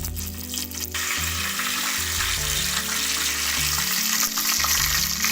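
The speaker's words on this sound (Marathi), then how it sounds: "जिरे चांगले तडतडले आहे" Steady sizzling and crackling of cumin and mustard seeds frying in hot oil, continuous and close, with a low hum running underneath.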